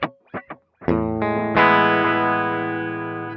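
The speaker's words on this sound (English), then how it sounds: "Now the delay." Guitar run through the delay effect of a Sonicake Sonic Bar Rockstage multi-effects unit: a few short muted picks, then ringing sustained chords whose repeats keep the tail going and fade slowly, loud and close.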